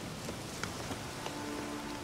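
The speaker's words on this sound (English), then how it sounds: "It's rain." Steady rain in The Witcher 3: Hearts of Stone patters on a surface, with scattered individual drops ticking over a soft, constant hiss.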